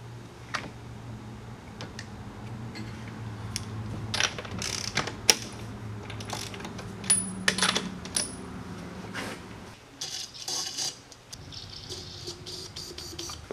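A ratchet wrench clicks in short, irregular bursts while removing spark plugs from an old engine, with scattered metallic ticks and clinks between bursts and a faint background hum.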